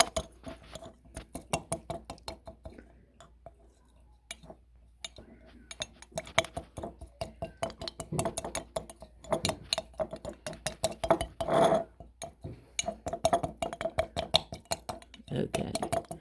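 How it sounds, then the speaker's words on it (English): Leaves mashed and stirred in a container, a quick irregular series of close tapping, clinking and scraping strokes, sometimes sparse and sometimes in dense bursts. "Then after we mash them and chop them up and keep on mashing."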